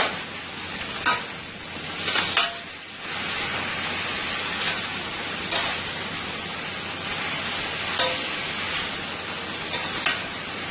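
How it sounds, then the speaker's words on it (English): Onions sizzling and frying in a pot as the base for a homemade beef stew, a steady hiss with occasional stirring scrapes and clinks, close and continuous. "I'm going to let my onions sweat a little for about a minute or 2."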